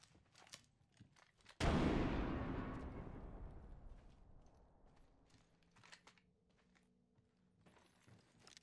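A frag grenade explodes in Apex Legends: one loud, sudden blast followed by a long rumble that fades over several seconds, with faint game clatter before and after.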